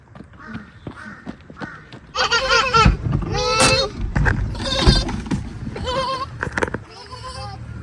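Young goat kids bleating close by on a hillside near Murree, several wavering cries in a row, while people talk over them.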